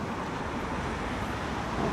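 Steady road traffic on a busy little street in Burford, a Cotswolds town in England: a continuous broadband wash of passing cars and heavier vehicles, fairly close, with no talking.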